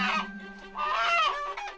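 Chickens being caught during the Dashain festival preparations, with loud, close, agitated squawking and honking fowl calls that fill the whole short stretch in two dense bursts.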